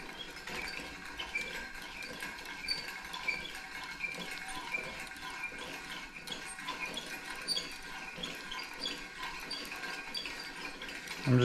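A THKFISH metal fishing line spooler clicks and ratchets quietly while being cranked slowly and evenly, a faint, fast mechanical ticking repeating over a low background hum.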